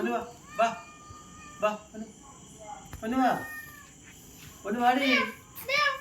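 A kitten mews in a home, several short high cries scattered over a few seconds, mixed with a voice and someone speaking nearby against a faint insect-like background hum.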